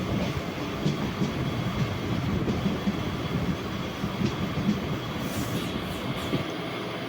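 A MEMU passenger train runs through the night between Punalur and Kollam, heard from inside as a continuous rumbling roll with rhythmic wheel clatter and a brief high squeal near the end.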